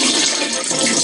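Water, about 100 ml, is poured over a tablespoon of peanut butter to mix, producing a loud, continuous splashing rush close up with no talking.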